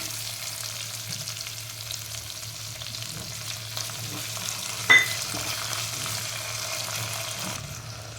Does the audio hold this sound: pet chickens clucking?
no